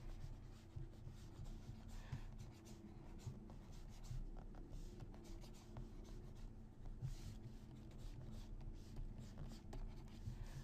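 A pencil sketching a character on paper, with continuous close scratchy strokes and rubbing, steady and quiet, with no talking.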